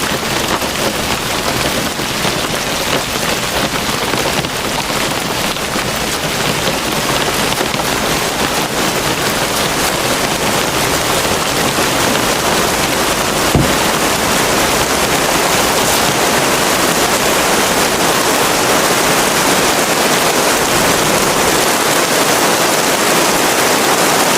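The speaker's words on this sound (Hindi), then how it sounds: "बाहर तो बहुत तेज बारिश हो रही थी।" Heavy rain pours steadily outside, a loud, continuous hiss of water that holds dense and unbroken throughout with no voices.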